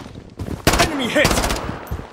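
Rapid enemy gunfire from a Blood Strike battle royale match: loud automatic bursts with sharp repeated cracks, separated by short gaps, with brief in-game voice callouts mixed in.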